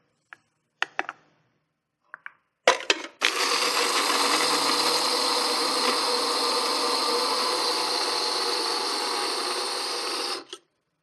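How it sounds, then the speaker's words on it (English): An electric spice grinder whirs continuously for about eight seconds as it grinds whole spices into a fine powder, loud and close, preceded by a few sharp clicks and taps as it is loaded and switched on. "combine them into the spice grinder and just grind them up into a fine powder"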